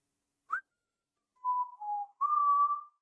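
A person whistles near the microphone: a short chirp, then a pause, then a few steady held notes that step down and back up in pitch, clear against silence.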